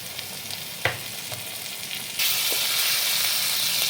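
Spices fry quietly in hot oil with a few spoon taps, then mustard paste hits the pan for a Bengali tangra fish and taro curry, and a loud, dense sizzle suddenly bursts out and holds steady.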